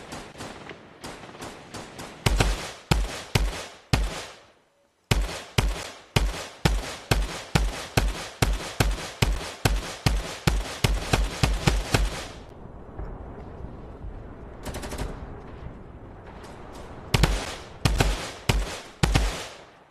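Drum gun firing in Fortnite: long rapid strings of sharp, loud automatic shots in repeated bursts, with brief pauses between volleys and quieter stretches.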